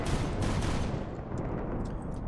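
Video game gunfire while shooting back at monsters, a dense, loud, continuous rumbling barrage of shots with no talk.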